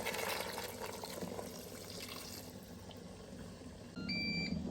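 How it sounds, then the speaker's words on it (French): Water poured into a cooking pot on the stove, a steady close splashing and trickling flow that runs throughout, with a brief electronic beep near the end and no talk. "On va remettre de l'eau. Rajouter l'eau."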